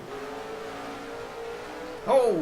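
A steady engine drone from Cup Series race cars at Sonoma in 2015, with one car sweeping past near the end.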